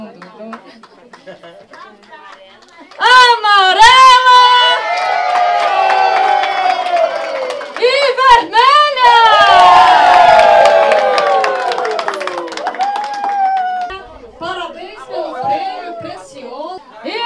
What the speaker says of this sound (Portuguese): Palmas para as equipes!